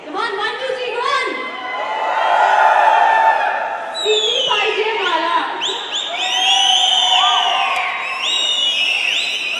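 Audience at a fashion show in India cheering, whooping and shouting in loud swelling waves, with a few voices calling out among the crowd.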